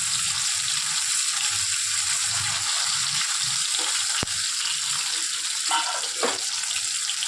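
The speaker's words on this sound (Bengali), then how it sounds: "মাছগুলো ভাজা হয়ে গেছে, এবার আমি তুলে নেব।" Pabda fish frying in oil in a kadai produce a steady, close hiss and crackle throughout, with a few soft clinks and bubbling bursts near the end.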